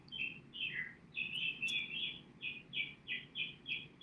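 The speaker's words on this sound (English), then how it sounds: "the birds outside, or a bird, is wanting to be heard" A single bird outdoors gives a run of bright, high chirps in quick, evenly spaced bursts, about a dozen notes over a faint low background hum.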